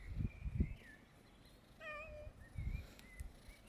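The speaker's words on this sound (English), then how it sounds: "Who's a good kitty?" A cat gives a short, rising meow, fairly faint, among low thumps and rustling outdoors.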